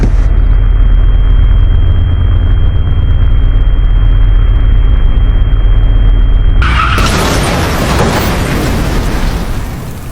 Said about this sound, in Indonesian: Minggir, ada mobil!